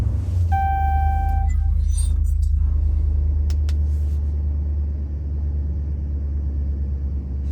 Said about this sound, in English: So press the brake and start your vehicle to get to the next step.